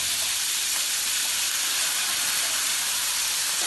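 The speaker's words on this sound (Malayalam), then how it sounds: "അതിലേക്ക് ഈ പകുതി വേവിച്ച് വെച്ച ബ്രോക്കോളിയും മഷ്റൂമും ഇടാം." Halved, par-cooked broccoli and mushrooms hit olive oil in a pan, giving a steady, close, loud sizzling hiss that holds evenly throughout with no talking.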